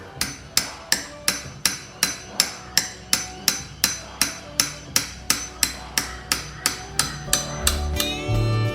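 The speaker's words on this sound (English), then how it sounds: "we have just the thing, KTM hammer" Hammer blows from a KTM-branded hammer during a KTM 200 EXC dirt bike engine rebuild, about sixteen sharp metallic strikes in a steady, evenly spaced rhythm, close and loud, ending in a brief clattering shuffle.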